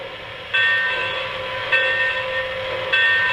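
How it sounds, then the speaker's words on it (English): Locomotive bell on a Weaver Milwaukee Road F6a 4-6-4 Baltic model train, sounding as a steady ringing tone repeated in about three strokes, each swelling then sustaining, clear and close with no voices. "first let's hear the bell"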